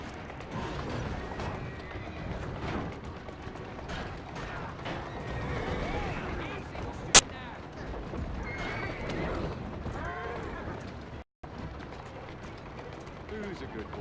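A horse whinnies and hooves clop along amid busy game effects in Assassin's Creed Syndicate, with a voice talking over it and one sharp bang partway through.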